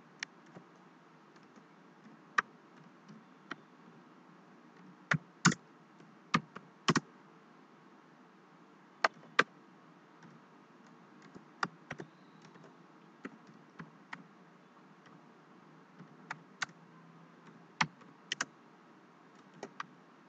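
Computer keyboard typing code for a C# Windows application, sparse individual key clicks scattered across a quiet background, close and fairly soft with irregular pauses between keystrokes.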